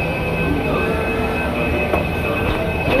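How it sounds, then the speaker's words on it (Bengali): Mumbai metro train pulling into a station, a steady close rumble of carriages and rails with a faint tonal whine, no talking. "ফাইনালি ট্রেন চলে এসেছে।"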